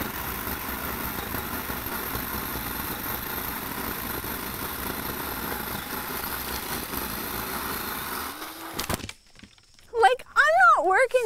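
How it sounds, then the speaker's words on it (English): A cordless pole pruner saw runs continuously through a branch for about eight seconds with a steady close buzz, then stops, and someone speaks briefly afterward. "you can just rest it on the branch and let the saw do all the work"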